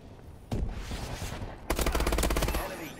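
Gunfire in the Call of Duty: Advanced Warfare video game: a loud single shot, then a rapid automatic burst of close, punchy reports lasting about a second.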